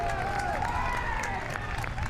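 A home crowd at a Garden City high school lacrosse game against Duxbury gives a steady roar of cheering and clapping, loud and continuous throughout with no pauses.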